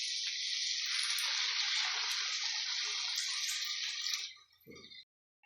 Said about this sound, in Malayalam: അതിലേക്ക് നമുക്ക് കുറച്ച് വെള്ളം ചേർത്ത് കൊടുക്കാം കേട്ടോ